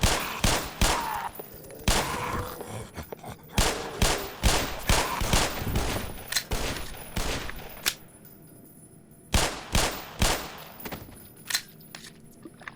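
Repeated gunfire in the video game Black Mesa, mostly single shots and short bursts in an irregular rhythm across the clip, loud and close, with a brief lull before a final cluster of shots.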